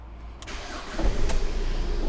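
A Ford Transit Connect van, just back together after a clutch replacement, starts up: a brief cranking burst, then the engine catches and settles into a steady close rumble.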